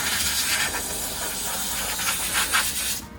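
Compressed air from a blow gun blasts water off a wet bicycle, a steady close hiss that holds for about three seconds and cuts off at the end.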